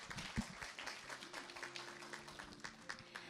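Audience members at the opening ceremony of an international symposium on Hwaseong Lake applaud, a fairly faint, loose patter of individual claps with uneven rhythm, heard from a distance in a large room.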